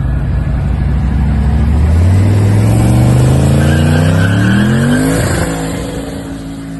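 A car engine revs hard and climbs in pitch with a loud, raw, unmuffled exhaust roar through an open V-band exhaust cutout, then eases off near the end.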